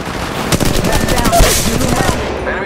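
Rapid automatic gunfire from a weapon in the mobile battle royale game Apex Legends Mobile, a loud continuous burst of close shots with dense rhythmic cracks throughout.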